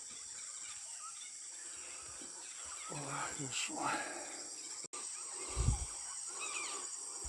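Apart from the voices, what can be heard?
birds flocking to roost tree at sunset, Ecuadorian Amazon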